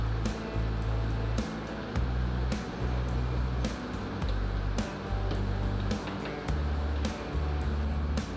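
Hot pickling brine ladled from a boiling pot into jars of banana peppers, heard as continuous pouring and splashing with repeated surges of liquid and occasional clinks, close and steady throughout.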